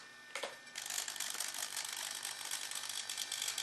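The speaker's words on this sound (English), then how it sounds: "Underneath here we have the flap servo, so that can go half down, full down on the flaps." A flap servo on a 1/48 scale B-25 model drives the flaps, a thin steady mechanical whir and gear chatter that starts abruptly and runs continuously, close and fairly quiet.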